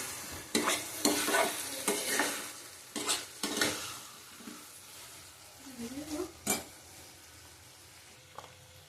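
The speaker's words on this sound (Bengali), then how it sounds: "অল্প করে জল দিলাম, ভালো করে কষিয়ে নিতে হবে।" Shrimp and taro curry stir-fried in a pan, with repeated scraping strokes of a spatula over a soft sizzle, the strokes coming in uneven bursts before fading to quiet frying.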